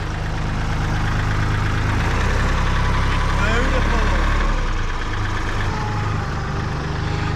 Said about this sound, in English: Come and take a ride on my big orange tractor.